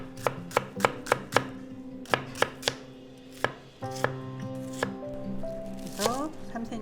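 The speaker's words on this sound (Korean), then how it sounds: "양파는 이쪽 모서리 쪽은 이렇게 칼을 비스듬히 해서 채 썰어야 되는 거 아시죠?" A knife cuts onion into thin strips on a board as ingredients are prepped for a pine mushroom casserole. About a dozen crisp, close chops come at an uneven pace, some quick runs and some spaced out, with a few quiet murmurs between.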